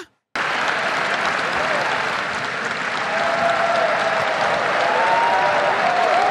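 A crowd keeps up sustained applause in a full, unbroken wash of clapping that starts abruptly and grows slightly louder toward the end.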